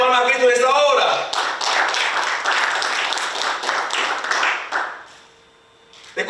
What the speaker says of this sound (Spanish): Dale palmas a Cristo en esta hora.